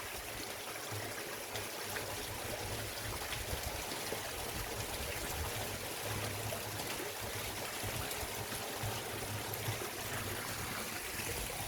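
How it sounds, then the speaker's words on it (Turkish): Cold spring water flows steadily outdoors in late May, a continuous trickling and gurgling stream heard close up and alone, with no talking. "Mübarek sular."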